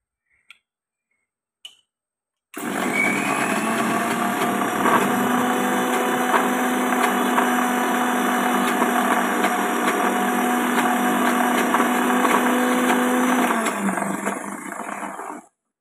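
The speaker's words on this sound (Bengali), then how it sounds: "তো আমি এবার এটা মিক্সিতে পেস্ট করছি।" A mixer grinder grinds sugar into a paste for homemade mango ice cream. After two faint clicks it starts with a steady, loud, close-up whirring drone that holds for about thirteen seconds, then cuts off.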